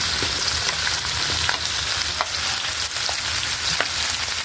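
Vegetables for pinakbet hitting a hot pan, a steady loud sizzle with occasional clinks of stirring, and no voices.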